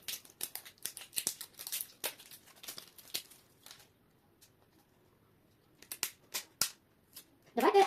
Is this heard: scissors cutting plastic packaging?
yes